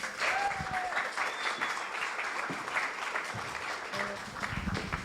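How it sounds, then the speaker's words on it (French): Audience applause at a debate contest as the debaters walk onto the stage, steady dense clapping filling the whole stretch with faint crowd murmur underneath. "je vous invite à venir sur scène sous vos applaudissements"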